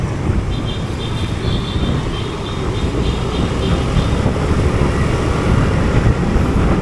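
Road traffic on EDSA Ayala in Manila, heard from a motorcycle riding among many habal-habal motorbikes: a steady, dense rumble of engines and road noise, with wind buffeting and a faint high whine throughout.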